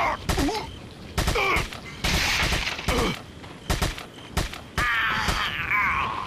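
Bursts of SMG fire in the VR game Resident Evil 4 on Meta Quest 2, several rapid volleys separated by short pauses, loud and close, mixed with game voice groans and effects.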